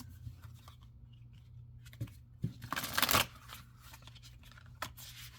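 Oracle cards being shuffled by hand, a brief burst of riffling and rustling near the middle with a few soft taps and flicks around it, close and fairly quiet against a low steady hum.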